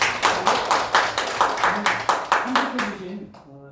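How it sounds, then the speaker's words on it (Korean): A small audience claps for an artist at the close of an arts academy session, a few hands beating in a steady, fairly even rhythm of about a dozen claps before stopping, with a voice starting at the end. "박수 다시 한번 보내드립니다"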